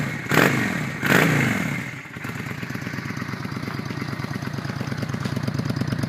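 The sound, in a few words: 2007 Honda Shadow 600 motorcycle engine running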